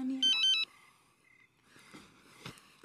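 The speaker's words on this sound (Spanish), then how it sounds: "Contesta el celular." A mobile phone ringtone plays a short, bright, melodic run of electronic tones, loud and close, then cuts off into quiet room sound with soft faint movement noises.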